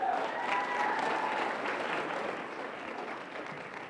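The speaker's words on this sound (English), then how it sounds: "Let's give him a huge round of applause." Audience applause at a startup pitch competition final, a dense steady clapping from a crowd that holds strong and then tapers slightly toward the end, with no talk over it.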